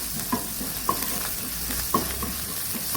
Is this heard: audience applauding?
no